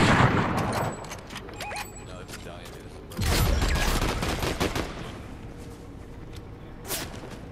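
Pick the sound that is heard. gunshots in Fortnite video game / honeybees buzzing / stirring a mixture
gunshots in Fortnite video game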